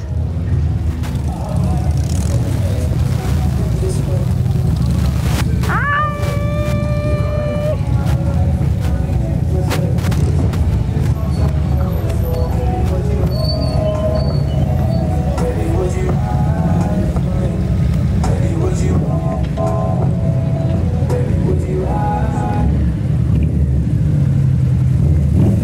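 A heavy motorbike engine rumbles and revs nearby for the whole stretch, with voices talking over the steady low drone.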